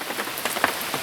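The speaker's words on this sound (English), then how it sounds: "with rain this strong and steady" Heavy, steady hurricane rain pours onto surfaces nearby, a dense continuous patter with scattered louder drops, alone and fairly loud.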